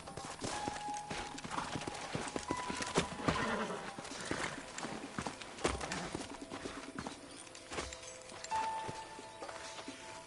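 Horse hooves clip-clop in Red Dead Redemption, a rhythmic run of close hoofbeats with occasional whinnies and game ambience, continuing throughout without speech.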